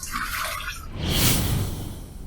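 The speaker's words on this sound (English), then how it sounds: "Let's rinse." Water rinses a safety razor during shaving, a dripping, splashing wash that swells louder partway through, close and steady with no talk over it.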